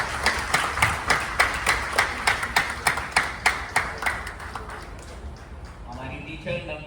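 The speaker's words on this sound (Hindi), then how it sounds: "उनके लिए भी कुछ तालियां बजा दी।" An audience at an International Yoga Day school function claps in rhythmic unison with about fifteen even, loud beats that then fade as a voice begins speaking.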